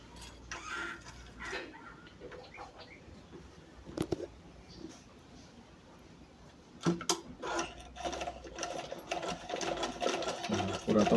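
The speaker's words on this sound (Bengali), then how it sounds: "এখন সেলাই করে দেখবো সেলাই সুন্দর" A sewing machine stitches with a rapid mechanical clatter after a bobbin has been fitted, running in bursts with short pauses and growing louder and more continuous toward the end, close by.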